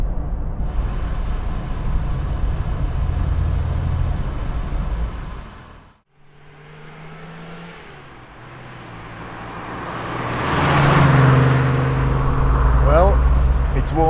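A 1969 Ford Capri Mk I 3000 GT XLR with a 3-litre V6 runs steadily at idle, warming up with a low engine rumble, a brief drop in the middle, then rising revs, with voices talking over it.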